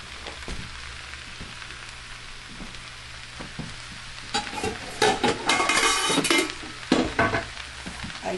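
Vegetables for pancit sizzle and fry in a pan, with a quiet hiss at first and then louder bursts of stirring and scraping utensils near the end.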